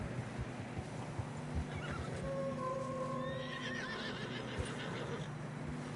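Horses whinny loudly in the video game Red Dead Redemption over a dense rumble of hooves and wind-like noise in deep fresh snow, with a long neigh in the middle and muffled steps throughout.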